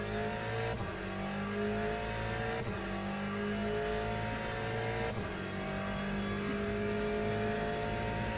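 GTE race car engine on an outlap at Le Mans in Le Mans Ultimate: a loud, continuous close engine drone with steady pitch shifts as it revs, plus a few brief sharp gearshift clicks, no talking.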